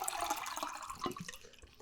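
Drinking water poured into a cup during a mukbang meal, a steady, moderately loud splashing trickle lasting about two seconds with no talk.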